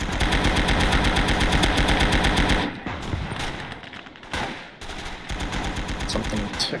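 Tank-mounted machine gun firing in the WWII game Gates of Hell Ostfront, a long dense burst of rapid rattling shots that breaks off into shorter bursts and scattered booms, with faint voice in the background.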